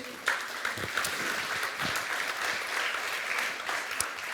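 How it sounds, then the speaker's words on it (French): Conference audience applauding for a live sketch artist, a dense, steady wash of clapping from a sizeable crowd lasting several seconds with no talk over it. "vous pouvez l'applaudir parce qu'elle va live sketcher"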